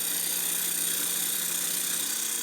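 Lathe tool plunge-cutting straight into a wooden beehive box blank, a steady, continuous scraping hiss with no pauses, close and fairly loud, with no talk.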